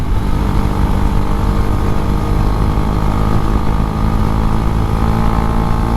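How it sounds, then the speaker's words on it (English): A Husqvarna Svartpilen 401's KTM 390 engine runs loud and steady at a constant pace, with a rough, throbbing drone and no talking. "It is a remarkable engine, that 390 KTM engine."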